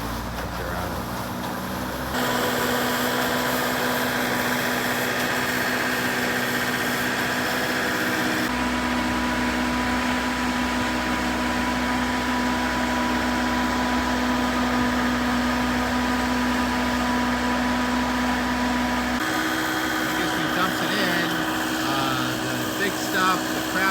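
Big dirt-sifting machine tumbling and mixing soil, separating debris from loam; a steady, loud mechanical drone and hum with a rumbling low end that shifts in character partway through and continues throughout.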